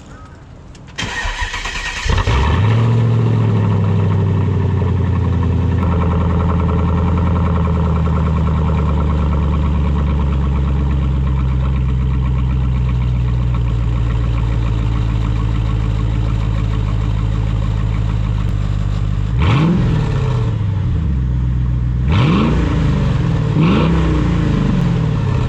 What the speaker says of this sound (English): Sounds like an absolute beast with no exhaust pipe